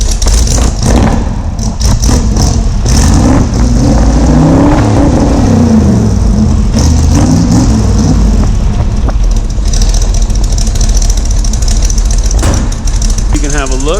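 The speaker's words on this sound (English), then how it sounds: "See if we can rev it up a bit for you." A 1986 351 Windsor V8 with an aggressive cam revs and settles, a loud, close rumble rising and falling in uneven bursts, with people talking over the engine noise.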